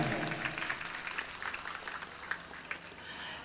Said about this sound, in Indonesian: Untuk itu kami mohon tepuk tangannya